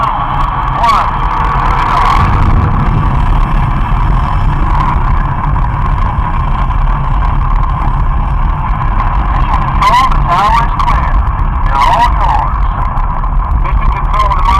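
Deep continuous rocket-engine rumble from a simulated main engine launch on the Mission Space ride, loud and steady throughout, with brief higher bursts of voices or effects layered on top near the start and later.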